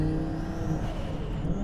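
A 1000-horsepower twin-turbo V10 Audi R8 pulls hard under acceleration, its engine a loud, steady, close drone with dense harmonics that holds throughout without a break.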